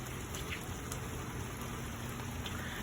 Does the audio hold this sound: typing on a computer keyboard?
no